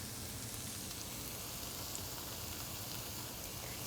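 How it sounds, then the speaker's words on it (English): Vegetables, garlic and a pinch of salt sweat slowly in a pan, giving a steady, faint, even sizzle with no voices. "You want to just sweat these veg out slowly to develop their flavor."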